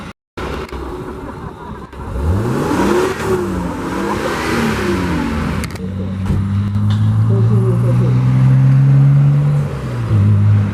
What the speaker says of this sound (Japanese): いや、めっちゃエンジン入れてんだけど。